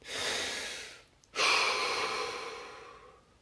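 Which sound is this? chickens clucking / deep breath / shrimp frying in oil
deep breath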